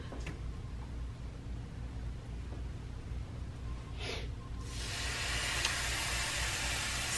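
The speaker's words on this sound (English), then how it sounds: "We're just gonna fry the bacon in that." Bacon starting to fry in a pan with leftover onion, celery and garlic, a low background hum giving way to a loud steady sizzle that swells in the last few seconds.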